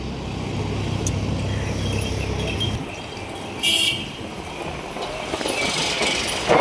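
A car on the road, steady engine and road rumble with a low drone easing after a few seconds, a brief brighter hiss midway; no talking.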